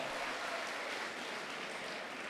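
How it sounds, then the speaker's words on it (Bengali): Audience clapping for a student who wants to become an advocate, during a motivational talk to a group of young people, a steady dense wash of hands at moderate level throughout without a break. "ওর জন্য একটা করতালি দাও"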